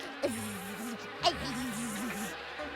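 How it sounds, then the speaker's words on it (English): Buzzing bees in a My Little Pony Friendship is Magic cartoon, a wavering nasal drone hovering close and moderately loud throughout, swooping up and down in pitch with a couple of small soft bumps, no talking. "Oh, you've all been busy little bees, haven't you?"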